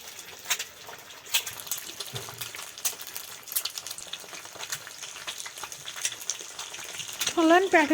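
An omelette frying in hot oil in a kadai over a mud stove, with a steady crackling sizzle throughout and voices talking over it.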